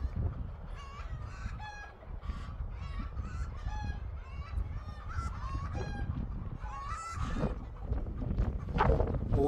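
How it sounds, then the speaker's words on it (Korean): Geese honk repeatedly among chickens and other farmyard fowl, a dense overlapping chorus of nasal calls and clucks heard fairly close, steady throughout with no talk. "거위 소리인가?"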